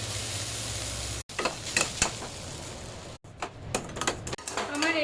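Raisins dropped into hot oil for suji upma set off a close sizzle with crackling bursts and stirring clicks, broken by brief silent cuts, while a voice talks at times.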